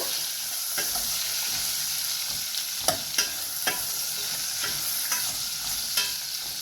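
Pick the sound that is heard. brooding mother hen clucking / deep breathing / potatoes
potatoes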